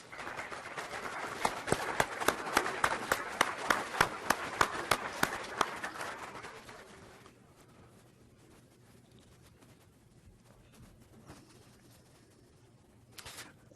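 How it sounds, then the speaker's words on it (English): Audience applause in a conference room for presenters at a plenary welcome session in Sitka, a dense run of claps lasting about six seconds before fading to quiet room noise with a few stray sounds. "Please give them a round of applause"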